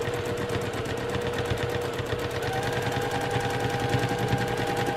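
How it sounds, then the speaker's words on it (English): A sewing machine stitching free motion quilting on a flying geese quilt, running as a steady, fast mechanical chatter of needle strokes throughout, close and continuous with no talking. "I always say I'm listening to my machine."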